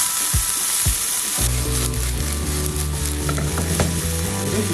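Onions frying in a pan, a steady broadband sizzle with a couple of spoon clicks at the start, then a dense run of stirring scrapes and knocks against the pan.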